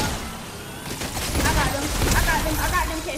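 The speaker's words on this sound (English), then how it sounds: "somebody else shooting is at me" Rapid bursts of gunfire from an aerial fight in a video game, with repeated shots overlapping and building slightly louder midway, mixed under a voice talking.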